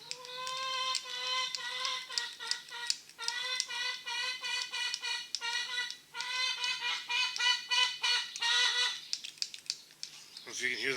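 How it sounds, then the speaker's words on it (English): A chicken squawks and clucks loudly and close by in a nearly continuous run of harsh, rising calls, with brief pauses near the middle and a sharper burst toward the end. "I don't know if you can hear that chicken."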